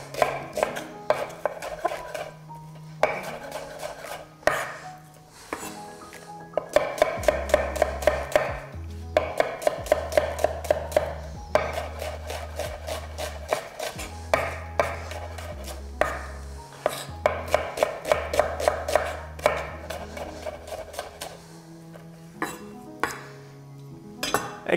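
A knife chops onion on a cutting board for a roast turkey dish, fast steady thuds in a rapid run, close and loud, with occasional clinks of kitchenware and no talking.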